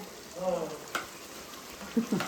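Gajar halwa (carrot pudding) is stirred in a Hawkins Contura pan, giving a quiet, soft scraping and gentle sizzle, with a few short, sharper scrapes near the end.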